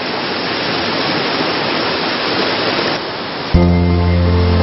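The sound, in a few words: flowing stream water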